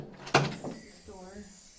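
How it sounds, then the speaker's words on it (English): A door swings and bangs shut once with a sharp, loud knock, followed by a softer rattle and faint creaking as it settles, set against low room noise. "Door."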